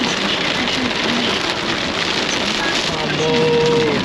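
Heavy rain on a highway in China roars as a constant, close hiss, with a faint engine hum beneath it and no clear talk.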